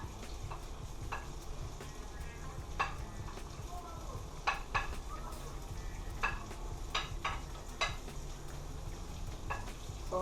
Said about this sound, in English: So we're going to saute off these, and I'm adding the thyme.